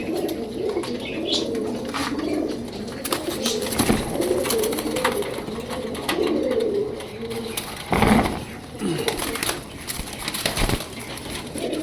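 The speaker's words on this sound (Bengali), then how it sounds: "এটা হচ্ছে একটা মাদি কবুতর" A young female Martin neck pigeon cooing close by, repeated low throaty coos through the stretch with a few sharp clicks and flutters among them.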